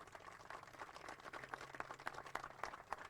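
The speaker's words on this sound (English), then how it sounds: "Can we just one last round of applause for all our award winners?" Faint, thin round of applause for award winners at an AMRS afternoon event in Sydney, scattered claps spread through a few seconds with a low steady hum beneath.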